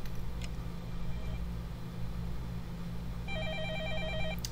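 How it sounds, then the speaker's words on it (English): Telephone ringing in the Fate/Stay Night visual novel game, a steady electronic ring repeating as a distant warbling tone over a low constant background hum, with no voices. "The phone is ringing far away."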